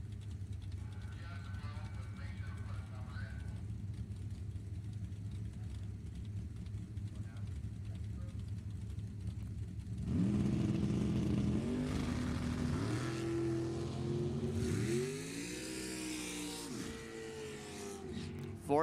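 A 64 Hall Bros Ford Falcon and a 32 Bantam chassis roadster launch in an NHRA bracket drag race, engines idling low then roaring and rising through gear changes while an announcer talks over them.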